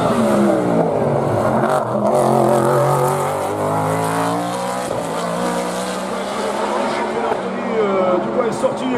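A race car at full speed, around 220 km/h, at the Saint-Gouéno hill climb in France, a loud engine note whose pitch sweeps and shifts as it passes close by, with a commentator talking over it.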